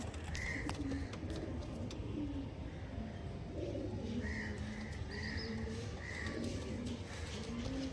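Star Kalanka pigeons in a loft, soft low cooing phrases repeating over a dense rustling background, with a few chirps from other birds and no talking.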